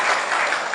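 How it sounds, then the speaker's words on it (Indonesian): A studio audience breaks into brief applause, a short, dense burst of clapping with no pauses. "Tepuk tangan dong buat kita semua."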